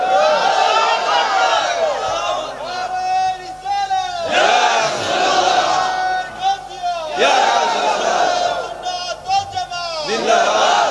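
A large crowd at a religious gathering shouts takbir in loud, repeated unison, with several swelling waves of voices.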